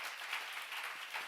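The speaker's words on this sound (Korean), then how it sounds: "박수 좀 세게 쳐요" Congregation applauding at a church sermon, a steady dense patter of many hands clapping at moderate level with no voices over it, lasting just over a second.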